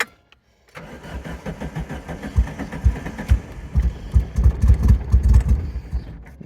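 A Dodge Daytona Turbo Z's engine cranks with a rapid uneven chugging, catches, and settles into a rough, lumpy idle close to the microphone, with no talking over it.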